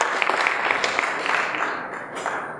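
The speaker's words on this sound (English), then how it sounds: "how about a loud round of applause and a cheer?" An audience at a startup showcase in San Francisco claps in a short, lively burst that fades off after a couple of seconds.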